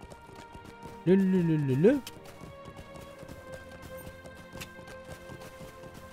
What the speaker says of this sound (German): Wir müssen erstmal zurückreiten. Wir reiten erstmal zurück.